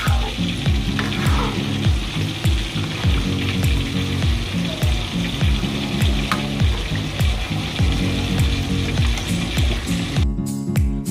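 Steady, loud sizzling and frying of fish in hot oil in a wok fills the whole stretch, with repeated scraping clinks of a utensil stirring it.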